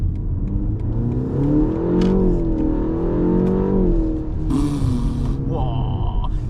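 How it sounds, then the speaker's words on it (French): A 2025 BMW M135 with 300 hp and 400 Nm of torque accelerates hard, heard from the cabin as a loud, rising engine whir through several gear shifts, with brief bursts of noise near the end. "Ça monte très vite, hein, les 400 Nm de couple, forcément, hein, on les ressent."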